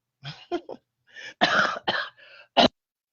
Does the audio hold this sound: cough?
yes